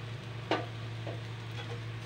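Spice mix being stirred in a pan on a gas stove, a few soft scraping strokes over a steady low hum, with no one speaking.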